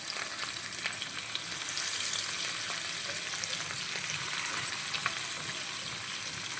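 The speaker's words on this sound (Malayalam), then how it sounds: "ഇപ്പം നമുക്ക് വറുക്കാനിടാം കണ്ടോ നമുക്കിങ്ങനെ നിരത്തി നിരത്തി ഇതിനെ ഇട്ട് കൊടുക്കാം" Fish pieces fry in a pan of hot oil with a dense, even crackling sizzle that holds steady and close throughout, with no one speaking.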